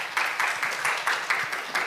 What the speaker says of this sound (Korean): 큰 박수로 정진영 박사님을 환영해 주시기 바랍니다